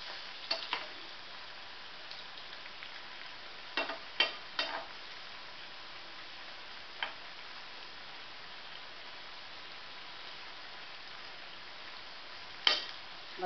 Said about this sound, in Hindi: मिनट के भी हम इसको अच्छे से गुलाबी होने तक सेक लेंगे।